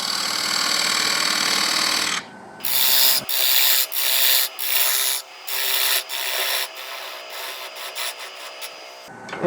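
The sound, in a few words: cutting wood on a lathe with a 3/16 parting tool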